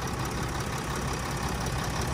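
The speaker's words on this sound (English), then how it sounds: "The engine's on." A 2018 Revel RV's engine idles with the engine compartment open, giving a dense, even rumble that holds steady throughout with no voices.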